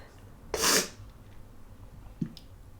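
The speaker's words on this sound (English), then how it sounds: "Oh no, I feel a sneeze." A single sharp, loud sneeze bursts out close by, followed by a faint breath afterward.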